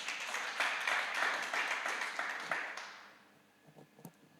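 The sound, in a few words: clapping hands for God in church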